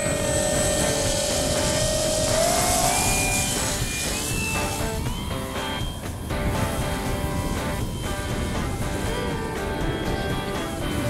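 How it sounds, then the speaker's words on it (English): A steady propeller-aircraft drone hums throughout at an airport in wind, with tonal whine rising and shifting, fairly loud and continuous with no talking. "and the other plane's here"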